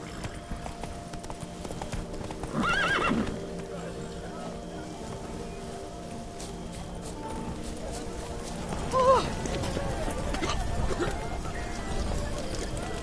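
Hoofbeats of a horse running in the Witcher 3 video game, a steady clip-clop rhythm close by, with a brief burst of game sound partway through and game voices over it.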